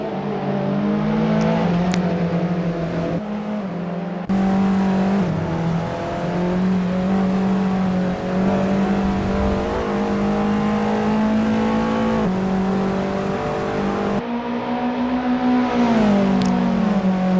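Touring cars racing in a 939 Corse Touring Car Championship video game race, with loud engine drones rising and falling in pitch through gear changes, several cars close together, and no voices.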